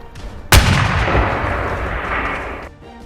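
A single loud gunshot cracks out in a film scene, followed by a long booming reverberant tail that fades over a couple of seconds, with no speech.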